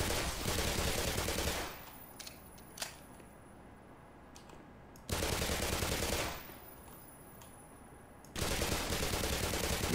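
MP5 submachine gun firing in the video game Black Mesa, three sustained loud automatic bursts separated by quieter gaps with faint scattered clicks and game sounds.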